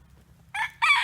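A hen gives two short, bright clucking calls close by, one just after the midpoint and a louder one at the end, following a quiet moment.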